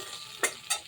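Spices frying lightly with turmeric powder in a pan for a begun ilish dish, two short stirring bursts of sizzle over a quiet hiss, close and fairly soft.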